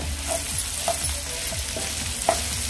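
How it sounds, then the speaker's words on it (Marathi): Bitter gourd stir-fry with salt stirred in a pan over low flame: soft sizzling under a few distinct scrapes and clinks of the spoon, close and fairly quiet. "आता हे व्यवस्थित आपण मिक्स करून घेऊया।"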